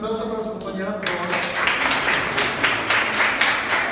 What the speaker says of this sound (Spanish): Un aplauso para su compañera, por favor